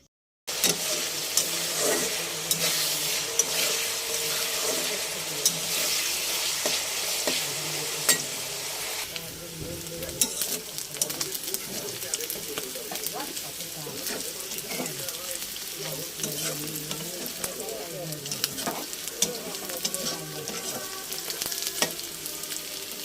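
Meat frying in a pan, a dense hissing sizzle that runs throughout with frequent clicks and scrapes of stirring, close up, easing slightly midway and continuing steadily with no speech.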